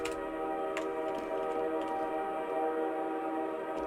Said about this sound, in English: When the train comes through again, I'm going to check the height on the tracks as well.